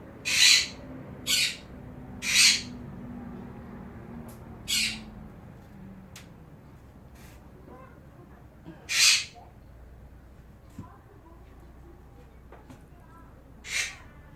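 Four pet parrots squawk indoors, giving about seven loud, shrill calls spaced irregularly over a quiet background.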